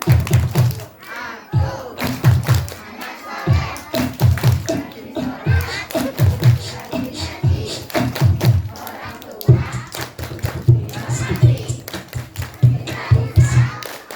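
Children do a rhythmic clapping chant, sung words punctuated by sharp, evenly spaced hand claps in short repeating phrases, close and fairly loud throughout.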